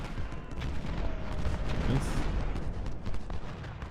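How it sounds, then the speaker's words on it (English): Battlefield gunfire and artillery from the Civil War strategy game Ultimate General: Civil War at Culp's Hill, Gettysburg, a dense continuous rumble of distant volleys and booms with scattered sharper cracks throughout. "Shoot at Gordon"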